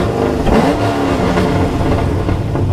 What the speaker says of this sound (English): Oh, that's a big exhaust.